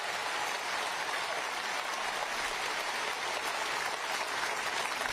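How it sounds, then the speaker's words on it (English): Dense, sustained applause from a large audience at a political rally fills the whole stretch, steady and loud with no break. "these are just massive applause breaks."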